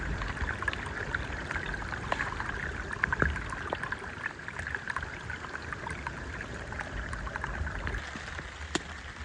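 A creek runs steadily nearby in wet winter woods, a continuous soft trickling and gurgling rush with occasional splashes, alone without talk.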